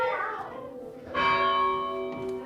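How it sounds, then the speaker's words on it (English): A church bell rings from a medieval village tower in Buitrago del Lozoya, heard up close with a bright, sustained metallic peal that swells, then lingers and decays. "But the bells are right there. I don't know if you can see the bell just ringing."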